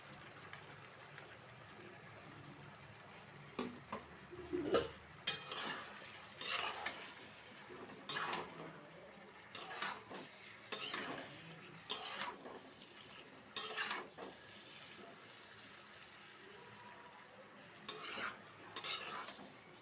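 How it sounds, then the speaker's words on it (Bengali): Ginger, garlic, onion and chilli paste frying in a pan for a pointed gourd curry, with a steady low sizzle broken by bursts of scraping and clattering as a utensil stirs against the pan. "এবার মশলাগুলো দিয়ে দেবো। আদা, রসুন, পেঁয়াজ, লঙ্কা বাটা"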